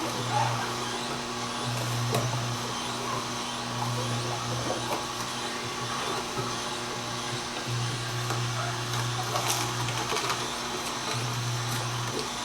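Omega 8004 juicer running continuously, a steady low motor hum with a faint mechanical whine and occasional small crunching bumps from produce being fed in.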